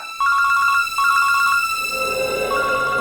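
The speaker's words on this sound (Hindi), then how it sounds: "बंटी के स्कूल से फोन।" Telephone ringing with a bright electronic trill in repeated bursts, two rings in quick succession, then a softer sustained tone fading under other sound at the end.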